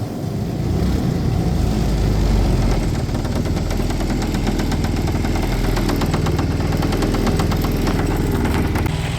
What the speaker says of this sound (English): This motor runs again.